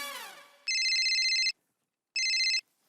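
A phone ringtone rings twice, close and clear, as someone calls a mobile, each burst under a second long with a pause between; a voice speaks briefly just before the first ring.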